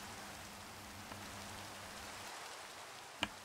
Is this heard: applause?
no